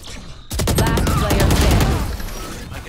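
Spectre gunfire in a first-person shooter: a sudden onset of rapid, dense automatic shots, loud and continuous for over two seconds before tapering off.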